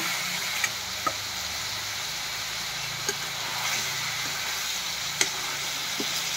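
Steady sizzling of pork and potatoes dry-frying in a hot pan, with occasional soft clicks of stirring, continuous and fairly close.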